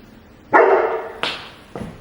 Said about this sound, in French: c'est mon chien qui aboie un petit peu sur tous les voisins qui passent